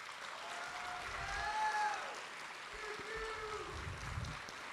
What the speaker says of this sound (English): I'd like to have a round of applause, students, to your parents and staff.